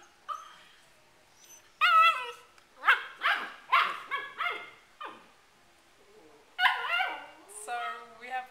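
Two puppies bark, yip and whimper close by in short bursts with pauses between, some calls sharp and others high and whiny.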